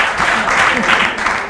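Audience applause and acclamation for a president at a women's football event in the DRC, a short burst of loud, dense clapping with some voices mixed in.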